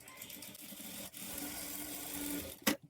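A sewing machine runs a long stitch down folded piping cloth, making a steady close mechanical whir with a faint tone. A brief pause comes partway through, and a clunk sounds as it stops.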